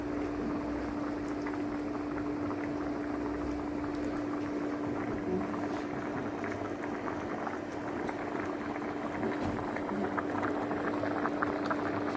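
Food boils steadily in a pot on an induction cooker, a continuous close bubbling and hissing with a faint electrical hum under it and no talk.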